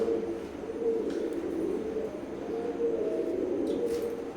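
Teddy pigeons coo with a steady low rolling murmur, close and continuous, with a faint background hum.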